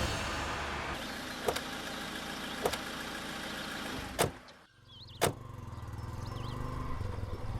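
A car interior carries a steady engine hum with a few sharp clicks. The engine sound then dips and settles to a softer idle as the vehicle pulls over and stops.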